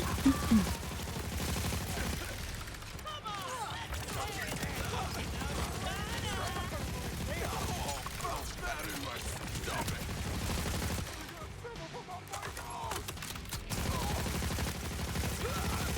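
Rapid automatic gunfire from turrets in the Borderlands video game, sustained bursts of crackling shots running almost continuously at steady loudness with a brief lull near the end, layered over game music and effects.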